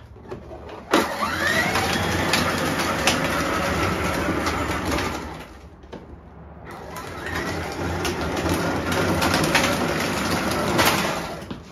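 A Power Wheels ride-on car running on a 12-volt battery gives a steady, close electric motor whine with rattling wheels, briefly dropping off near the middle before resuming, with no talk.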